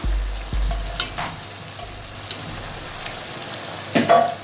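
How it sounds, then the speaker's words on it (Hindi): One kilo of boiled beef from yakhni browns in spice masala for Bannu beef pulao, making a soft, low sizzle with a few sharp spoon knocks at the start and near the end, with no voices. "और अब इसको बीफ को मसाले के अंदर 10 मिनट भूनेंगे।"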